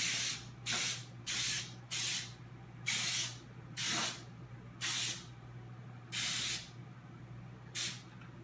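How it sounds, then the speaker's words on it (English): Nonstick baking spray hisses onto a brownie pan in about nine short bursts, each a second or less, with brief pauses between, close and fairly loud over a steady low hum. "I'm just going to use this nonstick baking spray because it works just as well."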